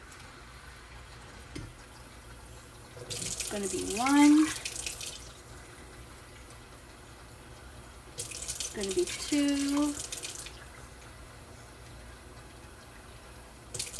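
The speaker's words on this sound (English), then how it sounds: "I'm going to add in 3 cups of water" Water pours in two bursts of a few seconds each, splashing into a pot with a rising, filling tone, while a person talks nearby.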